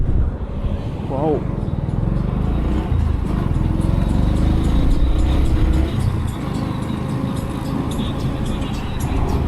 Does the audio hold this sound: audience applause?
no